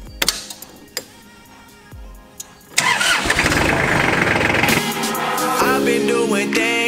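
A small Kubota 3240 tractor's diesel engine cranks in a few short bursts, then catches and settles into a steady, loud idle that holds close by with no talk over it.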